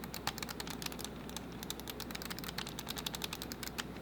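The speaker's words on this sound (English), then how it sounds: "You can lock these and make them clicky." Rapid, crisp clicking from the buttons of an EasySMX X20 game controller with lockable clicky buttons, pressed in quick irregular bursts, close and steady with no talking.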